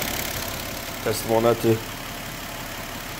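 A warmed-up Audi A6 C6 engine idles after a timing belt replacement, a smooth, low, steady hum throughout. Someone speaks briefly over it partway through.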